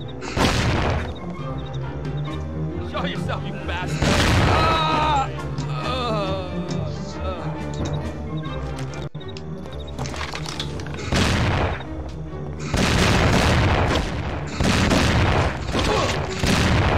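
Gunfire in the Mafia 2 video game comes in loud, heavy bursts of rapid shots and booming blasts, separated by stretches of quieter game sound.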